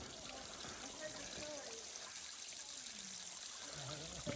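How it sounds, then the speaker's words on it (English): A small stream trickles over rocks beside a mountain hiking trail, a faint steady babble in the background with some talking over it. "a nice little stream running off right here."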